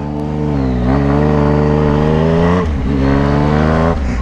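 Yamaha MT-09 GT Tracer motorcycle fitted with an Atalla 304 stainless steel exhaust, revving loudly and closely with strong harmonic engine tones that rise, dip and climb again, with no talk.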